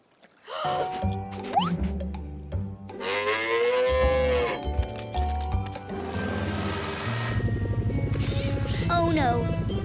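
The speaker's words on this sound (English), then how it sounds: "And I'll bring my cow up to you, Ryder." A cartoon cow in a kids' farm video game moos loudly several times, the long, drawn-out calls mixed with background music and brief character voices.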